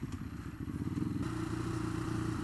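Ducati Hypermotard 821 motorcycle engine rumbling close by with a rough, pulsing low throb that grows steadier and louder after the first second, with some mechanical clatter.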